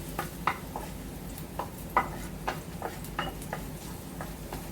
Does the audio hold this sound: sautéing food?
yes